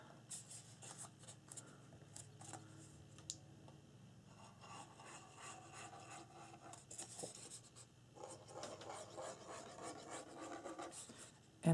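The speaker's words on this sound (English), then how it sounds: "Go ahead and burnish the folds toward each other" Folded paper on a mini album is burnished with soft, repeated rubbing and scraping strokes, quiet and close, growing busier toward the end.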